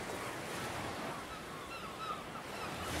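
Ocean surf ebbs and flows in a soft, continuous wash, faint and steady, with a light breath of wind across the shore.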